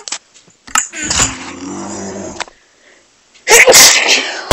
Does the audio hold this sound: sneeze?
yes